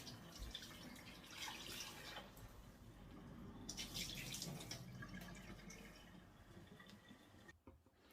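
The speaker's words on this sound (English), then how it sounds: "So I just rinse it off with some cold water." Cold tap water runs steadily over raw salmon in a kitchen sink, a continuous close splashing stream with shifting flow and a brief drop near the end.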